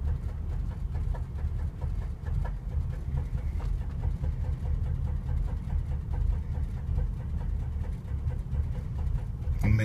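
A 2003 Ford Crown Victoria P71 with a blown motor idles, a steady low rumble with a slightly rough, uneven pulse held throughout, close by and without talk.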